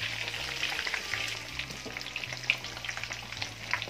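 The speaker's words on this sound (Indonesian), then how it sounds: "Goreng ayamnya ini tidak perlu terlalu lama karena kan tadi sudah kita ungkapkan, jadi cukup sampai ayamnya ini kekuningan saja." Chicken pieces frying in hot oil for galangal-spiced Indonesian fried chicken, giving a steady close sizzle with scattered pops and crackles and a low rumble underneath, with no talking.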